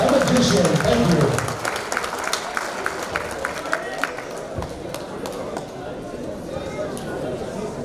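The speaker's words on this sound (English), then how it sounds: "put your hands together for Anthony Sims Jr., the magician" A boxing-event crowd in Las Vegas claps and cheers for a boxer, a dense roar of applause that starts loud, then thins into scattered claps and chatter.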